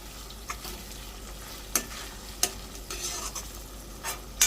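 Ginger garlic paste being stirred into spicy chicken frying in a pan, with a steady sizzle and several sharp scrapes of the spoon against the pan, close and fairly quiet, no voices.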